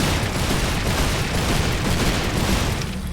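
Rapid gunshots from a weapon in Serious Sam 4, a dense, continuous barrage of loud booming blasts that blur together for about three seconds, easing slightly at the end.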